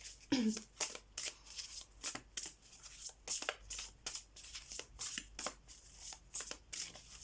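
Tarot cards riffled and shuffled in a repeated rapid flutter of crisp slaps and swishes, close and fairly loud, with a brief voice at the start.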